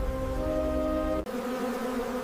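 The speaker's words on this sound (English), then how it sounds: "As dawn breaks, millions of worker bees leave the hive" Honey bees buzz as worker bees leave the hive at dawn, a steady droning hum that holds for about a second before a brief break and resumes with a slightly different, denser tone.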